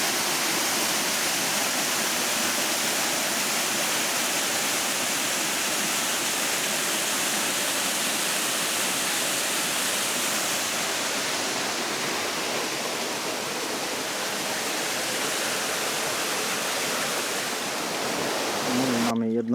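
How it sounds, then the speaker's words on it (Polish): A small waterfall on a trail in Fiordland National Park, New Zealand, pours with a steady, close rushing roar that holds constant throughout, with no voices. "to taki mały wodospad na szlaku Diversion"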